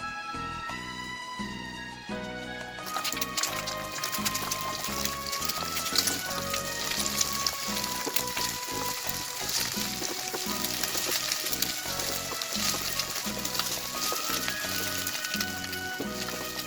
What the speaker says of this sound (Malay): Kita nak masak telur dulu. Nak goreng telur dulu.